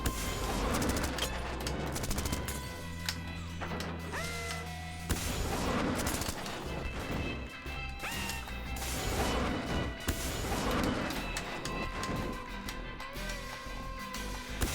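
Missile launches and explosive impacts in the video game Manual Samuel, a loud, repeated barrage of booms and bursts every couple of seconds over busy game music and effects.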